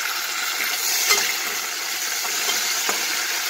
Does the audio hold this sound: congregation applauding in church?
no